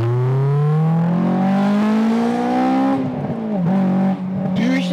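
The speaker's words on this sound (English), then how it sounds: "Those pops between shifts!" A Honda S2000 engine screams at very high revs, the pitch climbing steadily before dropping sharply at a shift and rising again, with pops between shifts; loud and close throughout.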